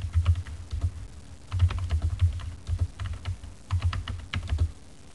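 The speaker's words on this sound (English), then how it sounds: "Then we continue typing." Someone types on a computer keyboard while using Microsoft Word, producing bursts of soft, rapid key clicks in uneven clusters with brief pauses, close up and with no talking.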